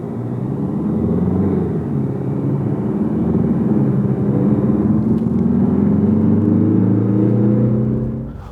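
DS Automobiles DS3 Crossback 2019 in sport mode, accelerating with a steady, loud engine drone and low rumble that builds gradually over several seconds, heard from inside the cabin without talk.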